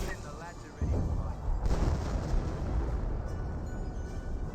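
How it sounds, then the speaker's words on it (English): Heavy 25-pounder artillery fire in Company of Heroes, a dense continuous rumble of booms and battle noise that swells after the first second and rolls on loudly throughout, with a voice talking underneath. "now they're going to be more wounded by a 25 pounder"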